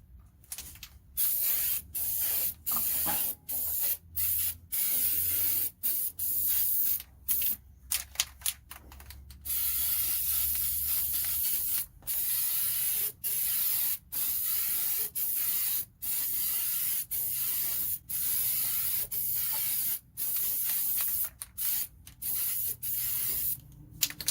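Primer sprayed from an aerosol can onto surfaces of a 1969 Charger inner rocker to be welded, many short hissing bursts of varying length, one longer steady spray, close and without talk.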